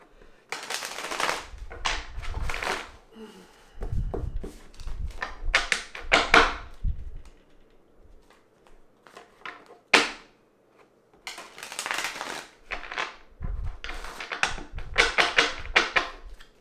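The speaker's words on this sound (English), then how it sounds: "Give these a couple shuffles before I dig into those." Tarot cards are shuffled in repeated bursts of riffling and flicking, with brief pauses and a sharp snap midway, heard close up with no talking.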